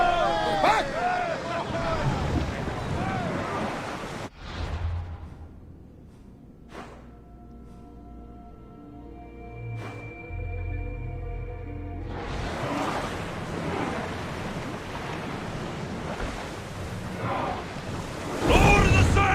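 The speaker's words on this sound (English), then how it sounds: "Lower the sail! Get the oars out! Keep up the speed!" A sailing ship surges through sea waves in the Assassin's Creed Odyssey video game, with a broad rushing wash of water and wind, a quieter stretch holding tonal sounds, then a loud return, voices shouting over it early.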